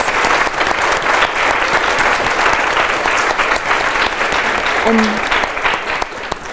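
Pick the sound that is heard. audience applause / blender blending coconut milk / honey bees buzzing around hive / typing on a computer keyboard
audience applause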